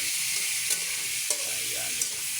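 Sliced meat for papaitan sizzles loudly in a frying pan, with a steady hiss broken by a few scraping stirs of a utensil against the pan.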